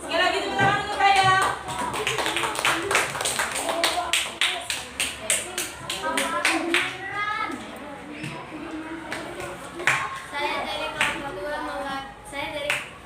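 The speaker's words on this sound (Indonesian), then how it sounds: "Yang beri tepuk tangan untuk kelompok dua" Classroom applause for a group of pupils about to present, a lively patter of children's clapping in bursts with taps and chatter, while a teacher's voice talks over it at times.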